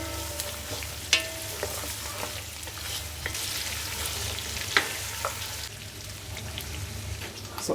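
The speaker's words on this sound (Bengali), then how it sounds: "এই যে ভাজা ভাজা যে হচ্ছে না মাংসটা" Goat meat fries in ghee in a pot, a steady close sizzle broken by occasional sharp pops and spatters, with soft stirring scrapes.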